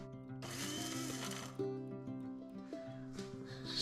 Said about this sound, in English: All of these are going to go into my spice blender and I'm going to blend them into a powder.